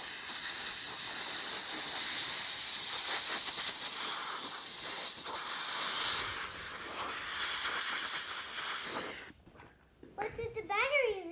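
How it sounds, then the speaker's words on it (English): A steady, loud hiss of compressed air blows into a cleaned battery compartment of an alkaline-battery device for about nine seconds, then cuts off, and a voice follows. "then we'll hit it with a little bit of compressed air"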